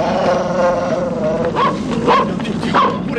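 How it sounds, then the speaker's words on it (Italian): A dog gives short, excited yips and whimpery barks close by, a few bursts in quick succession over a steady background. "Pure i cani oggi."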